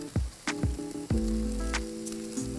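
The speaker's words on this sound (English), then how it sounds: "we're going to fry this rice up a little bit" Rice for shrimp and lobster fried rice fries in a pan, with a sizzle under several close, ringing metallic clanks and scrapes of the utensil against the pan.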